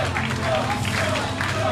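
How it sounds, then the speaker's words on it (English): Arena crowd noise for pro wrestler Ironbeard Bjorn ahead of his match with Swamp King Brett Myers, a steady, loud wash of cheering and applause throughout, with an announcer talking over it. "you can hear the crowd showing their love and respect for the Ironbeard"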